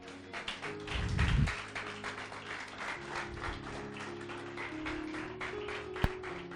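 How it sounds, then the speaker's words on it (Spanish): A church congregation clapping during a sermon, steady rhythmic hand claps with some low tonal hum beneath and a brief louder burst early on. "Aplauda el nombre del Señor."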